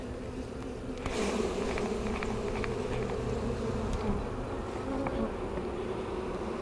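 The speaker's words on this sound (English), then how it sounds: "I'm going to shake the bees off of this frame" Honey bees buzz loudly and continuously as they are shaken off a hive frame during an inspection, with a sharp jolt of the shake early on and a dense swarm drone throughout, no speech.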